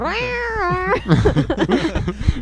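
A person's voice imitates a raspy, moaning male cat, drawing out a rising, wavering yowl before breaking into rough, choppy vocal sounds, loud and close.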